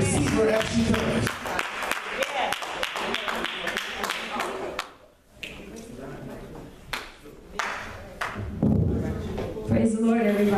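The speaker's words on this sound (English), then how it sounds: "let's clap our hands and receive her as she comes" Church congregation clapping along at a Baptist service in Los Angeles, rhythmic hand claps mixed with music and voices throughout, with a brief lull midway before the clapping and singing resume loudly.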